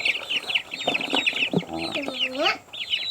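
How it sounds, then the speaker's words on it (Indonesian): Chickens cluck and squawk close by in a busy, overlapping chorus, with a few sharper calls rising over the steady clucking. "ternak ayam, ayam Birma, ayam telur hijau"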